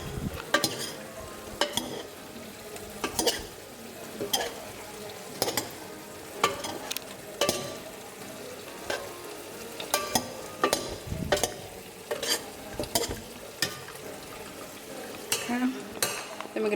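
A spoon stirs and breaks up cheese and garlic in a sizzling pan, with steady scraping and clinking against the metal repeating over a soft frying hiss.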